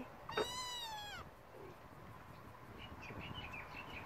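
A trapped kitten lets out one clear, drawn-out meow near the start, followed by quiet background with faint, brief chirping sounds.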